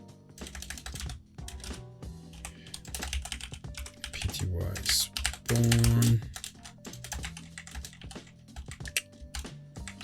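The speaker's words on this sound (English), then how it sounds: "See why I need to practice typing again?" Fast, uneven typing on a computer keyboard while working in a terminal over SSH: clattering keystroke bursts come close and clear, broken by short pauses and a few heavier key thumps, with someone speaking briefly between them.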